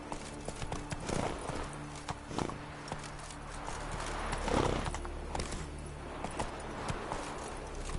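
Horse hooves clip-clop steadily through the Witcher 3 video game, with a couple of whinnies and snorts, moderately near over soft ambient game sound and no talking.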